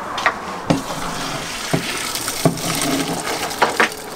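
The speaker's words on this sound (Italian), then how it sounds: "È il momento di scolare." Cooked spaghetti drained in a sink inside a camper: water splashes and pours with intermittent sharp clatters of the pot or colander, close and moderately loud, with no talking.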